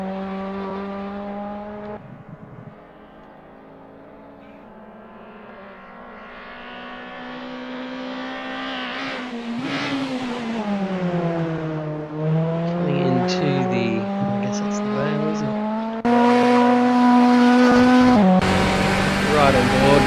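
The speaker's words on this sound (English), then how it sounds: "He's just on his out lap now, trying to get those tyres warm." A race car on its out lap at Silverstone hums steadily at moderate revs, then rises and swells louder as it accelerates, with a commentator talking over the engine.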